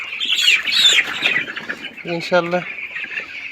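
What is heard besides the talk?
broiler chickens clucking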